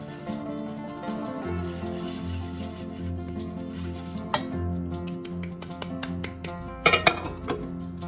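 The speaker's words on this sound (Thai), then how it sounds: "แล้วก็คนไปเรื่อยๆนะคะมันจะแรกมันจะแยกตัวก่อนนะคะ เป็นเนยกับ ช็อกโกแลตใช่ไหมคะ" Melted chocolate and butter are stirred in a bowl for brownie cookies, with a spoon rubbing and scraping steadily and a few clinks against the dish near the end, close and clear.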